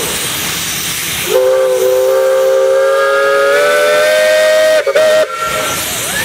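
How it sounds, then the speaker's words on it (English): A steam engine whistle at a steam threshers show sounds one loud, sustained blast of several seconds with a hissing edge, briefly broken near its end, standing alone without voices. "John, you got a whistle."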